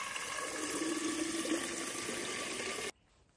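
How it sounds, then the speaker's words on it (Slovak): Water pours steadily from a garden hose into a container for a well-water sample, a loud, continuous rushing splash that stops abruptly near the end, leaving near silence. "Nechám si troška odtiecť z hadice a nalejem do nádoby, z ktorej budeme odoberať vzorku."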